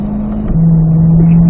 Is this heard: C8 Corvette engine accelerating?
yes